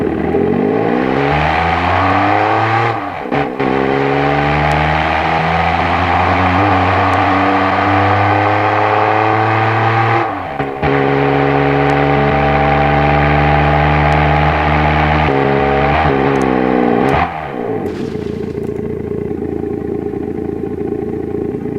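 A deliberately terrible car in the Automation game revs its engine loudly, the pitch climbing and dropping through several rev sweeps with harsh, buzzy harmonics before cutting back to a rough idle.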